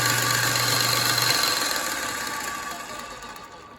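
A metal lathe spins at its top speed in a workshop, giving a steady, loud mechanical whir with a low hum that drops out partway through, the overall level slowly easing off toward the end.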